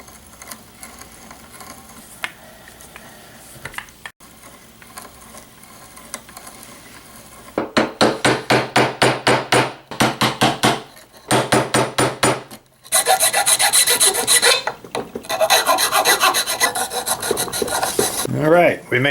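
A chisel cuts a mortise through the wooden beam of a Japanese kebiki marking gauge: quiet scraping at first, then close, rhythmic bursts of rasping strokes that grow louder and denser.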